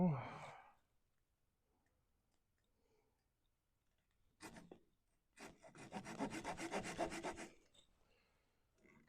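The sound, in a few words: woodturning, cutting a tenon off a wooden piece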